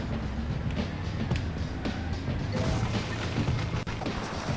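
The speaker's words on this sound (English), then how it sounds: "See, now we've crashed." A car in the HSV Adventure Racing video game, with loud, steady engine and road noise and rough crashing thuds throughout, ending in one sharp impact.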